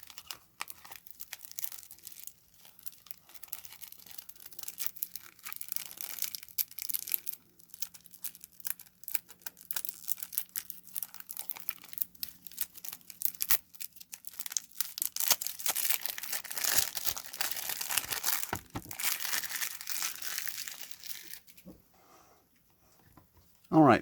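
Plastic wrap is peeled and torn off a sealed deck of Integear plastic playing cards, giving close, quiet crinkling and tearing that builds toward the end, then a brief pause and a final sharp sound.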